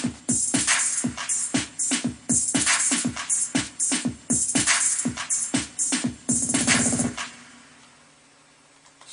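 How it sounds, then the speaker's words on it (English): Punchy electronic drum samples play a quick beat of bass drum thumps, snare cracks and crisp hi-hat ticks, loud and dry, before a short roll and a fading tail into near silence. "You've got hit 1, hit 2, hi-hats and snares and bass drums and whatever."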